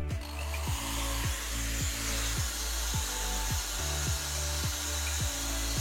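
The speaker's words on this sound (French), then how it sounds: "je vais encore remettre un petit coup de brosse là-dessus" A brush scrubs a rear brake caliper clean on an Alfa Romeo 159 or Brera during a pad and disc change, making close, steady rhythmic strokes of about two per second over a constant low hum.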